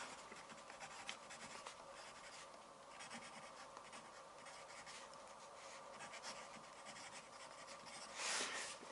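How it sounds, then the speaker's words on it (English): Quiet, steady scratching of a pen or pencil writing on paper during a music theory lesson, faint and continuous with small strokes, no talking. "So I'm writing here"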